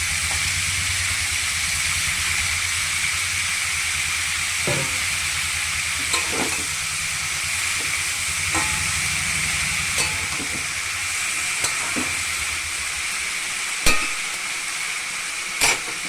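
Pumpkin greens sizzle and hiss steadily in a hot pan for a long stretch, with occasional clicks and scrapes as they are stirred, and no talking.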